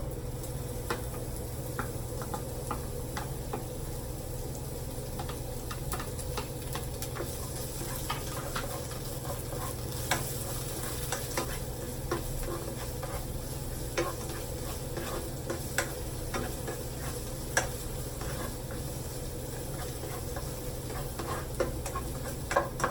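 Chopped onions sizzle steadily in a frying pan for home-cooked Filipino ground-meat omelette, with scattered clicks and scrapes of a spoon stirring them, close and moderately loud with no voices.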